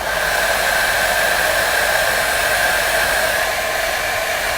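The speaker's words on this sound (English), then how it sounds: "I can use my hair dryer, and you can speed the process with this just a little." A hair dryer blows steadily and loudly from start to finish, a constant close airy roar with no talking.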